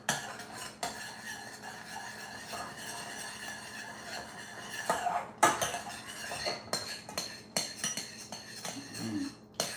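Stirring simmering raspberry sauce in a pot, with repeated metallic spoon scrapes and clinks against the pot over a low bubbling background, close and fairly quiet.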